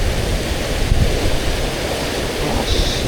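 Ocean surf washing onto the shore at Bluff, New Zealand during a fishing trip, a steady broadband roar of breaking waves mixed with wind buffeting the microphone, continuous and fairly loud throughout with no one speaking.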